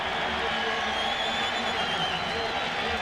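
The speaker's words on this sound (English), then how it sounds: "The crowd goes nuts." A stadium crowd at a 1999 NFL game between the Tampa Bay Buccaneers and Oakland Raiders roars after a field goal, a dense, steady wall of cheering that holds without a break throughout.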